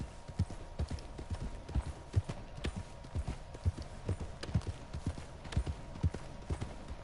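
A horse in Red Dead Redemption 2 trots along with steady, rhythmic hoofbeats that clip-clop clearly and evenly throughout, heard near and fairly loud with no talking.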